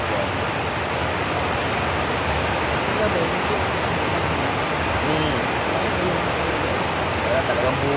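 Heavy rain pours down at Magdalena Market in a dense, steady hiss that fills the whole span, loud and close, with voices faintly underneath.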